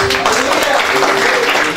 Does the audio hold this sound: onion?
no